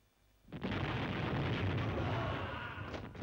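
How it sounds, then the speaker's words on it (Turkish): Enemy artillery fire in an old Turkish war film comes as a heavy blast that erupts after a quiet start and then rolls on as a long, loud, rumbling roar. "1023 rakımlı tepeden düşman top ateşi altındayız!"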